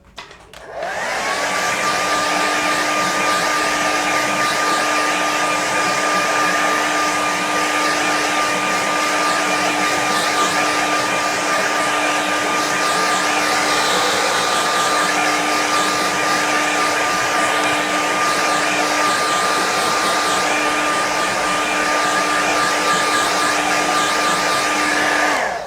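A hair dryer blows steadily on a painting of a sunrise over still water, switching on abruptly and then holding a loud, even whine and rush of air for about twenty-five seconds with no talk.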